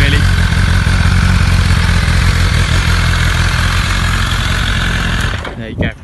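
A BMW S 1000 RR sport motorcycle engine running steadily at idle, a loud, dense mechanical drone that holds for several seconds before cutting off abruptly near the end.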